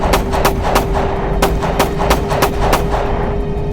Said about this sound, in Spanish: Sus disparos resonaron